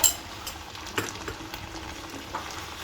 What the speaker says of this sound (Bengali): এবার আচারটা দিয়ে আমি আচারটা সব জায়গায় খুব ভালোভাবে মিশিয়ে দিব।